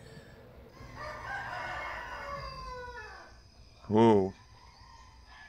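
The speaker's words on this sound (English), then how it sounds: "that rooster sounded really strange" A rooster crows once in the Indonesian folklore horror game Pamali, a short, loud, tonal call standing out after a low ambient drone and a brief exclamation from a player.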